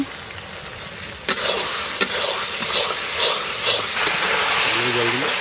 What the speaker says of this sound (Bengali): এবার হলুদ দিয়ে দিচ্ছি, লঙ্কার গুঁড়ি দিয়ে দিচ্ছি